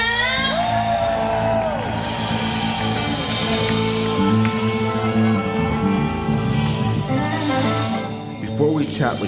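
A club audience whoops, shouts and cheers for a band taking the stage, a lively crowd roar with high yells layered over sustained music tones and an amplified voice.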